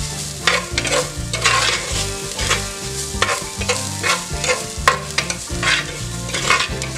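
Garlic and chopped chili fry with softened onion in a pan for frijoles charros, a loud, steady sizzle broken by repeated scraping stirs, with a faint tonal backdrop underneath.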